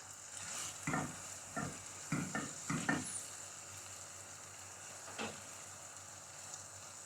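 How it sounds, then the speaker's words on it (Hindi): Fried okra is stirred into masala in a pan, a soft steady sizzle broken by a run of spatula scrapes and stirs in quick succession, then one more stir after a pause. "भिंडी को अच्छी तरह से मिक्स कर लेंगे।"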